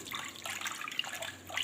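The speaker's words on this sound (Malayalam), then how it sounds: "2 ഗ്ലാസ് നമ്മൾ വെള്ളം ഒഴിക്കുന്നു. വെള്ളം ഒഴിച്ചിട്ട് നമ്മളിങ്ങനെ കലക്കി കൊടുക്കുന്നു." Two glasses of water are poured into a pot of sambar and stirred, making soft, quiet splashing and swirling close by.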